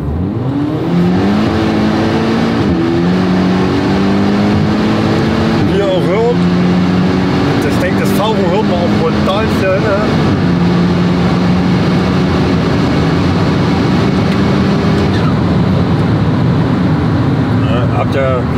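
A Volkswagen Golf V GTI with a TFSI turbo engine, an open intake and a turbo blow-off, revs loudly and rises in pitch through the gears, with people talking over the constant engine roar.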